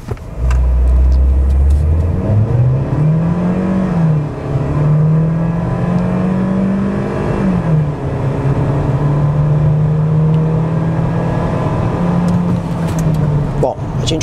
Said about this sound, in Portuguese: vamos fazer aqui uma largada no modo Sport, com o programa de estabilidade desligado, mas porém sem estolar o veículo